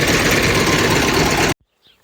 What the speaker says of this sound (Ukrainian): Заганяю трактор десь за тінок.